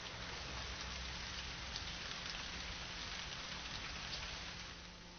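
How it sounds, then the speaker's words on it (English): Heavy rain falls outside in a steady, dense hiss of countless drops hitting surfaces, even and unbroken throughout with no voices. "Outside, it had started to rain heavily."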